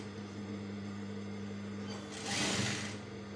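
A sewing machine stitches a shirt collar with a steady, close mechanical whir and hum, swelling briefly louder and faster near the end.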